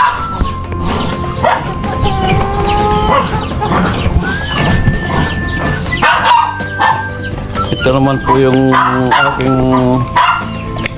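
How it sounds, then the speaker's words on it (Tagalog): A fighting rooster clucks in short bursts while a small dog barks repeatedly nearby, and someone talks over both on a chicken farm in the afternoon. "Manok panabong."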